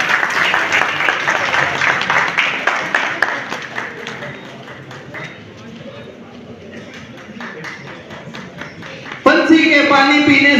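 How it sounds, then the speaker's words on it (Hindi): Applause from an audience at an award felicitation during a Vishwakarma Jayanti celebration, claps blending with crowd noise and chatter, fading in the middle, then a louder burst near the end. "तालियां रुकनी नहीं चाहिए।"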